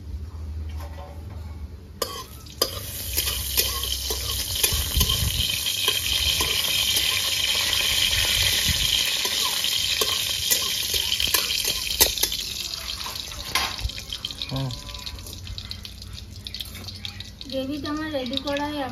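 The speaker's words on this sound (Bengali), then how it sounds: "2টো শুকনো লঙ্কা সামান্য জিরে দিয়ে দেবো ফোড়নে।" Dried red chillies and cumin fry in hot oil for tempering, giving a dense, loud, hissing sizzle that runs throughout, with brief knocks and occasional vocal sounds.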